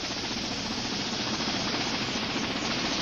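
A helicopter flies overhead with a constant droning rotor and engine rumble. The sound is steady and moderately faint throughout, with no talk over it.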